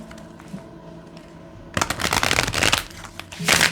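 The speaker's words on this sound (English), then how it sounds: "One more shuffle." Tarot cards being shuffled close by: a quiet stretch, then a burst of rapid riffling and flicking, with a final short flurry.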